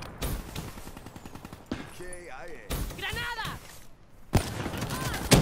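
Sniper rifle shots in the video game Black Ops, a few sharp gunfire bursts spaced apart, mixed with game effects and someone talking over them.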